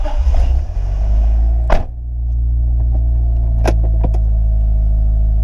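A VN Commodore with an LS1 V8 rumbles loud and close as it eases out of a small garage, a heavy steady low idle with a few sharp clunks and knocks over it.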